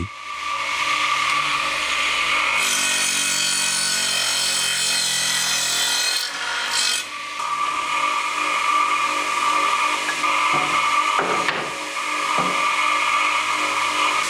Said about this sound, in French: Puis il est scié à la longueur voulue